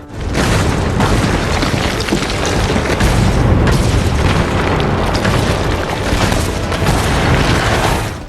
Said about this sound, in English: Suddenly, a shell struck, revealing Jake's location to a monster